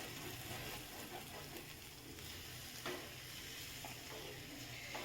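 Cabbage and egg fry sizzling steadily in a pan, a continuous close hiss with occasional soft stirring scrapes and no talking.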